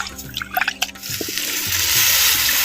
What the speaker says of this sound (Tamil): அரிசி அலைஞ்ச தண்ணியை அரை லிட்டர் சேர்த்துக்கிறேன்